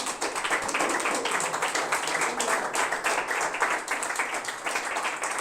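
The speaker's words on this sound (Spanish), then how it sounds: "¿Puedes darle un aplauso a Dios?" A church congregation claps together in a continuous burst of applause. Many hands beat in quick, overlapping strikes that hold an even, moderately loud level from start to finish, with no voices on top.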